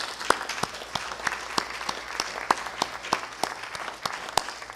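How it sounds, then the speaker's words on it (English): Applause for the candidates at a community candidates forum, sparse and fairly quiet, with distinct individual claps landing in a loose, steady rhythm from a small audience. "I think we owe all the candidates a big round of applause."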